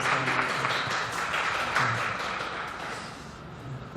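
Church congregation clapping together during a worship service, a dense continuous patter of many hands held at an even level for the whole stretch, with no voices clearly standing out.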